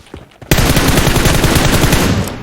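Sustained automatic gunfire from PUBG Mobile bursts in loud and close after a brief quiet lead-in, rattling in a rapid, unbroken string of shots that continues to the end.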